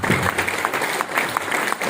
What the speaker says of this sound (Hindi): तो दीदी जी का स्वागत करेंगे तालियों के साथ।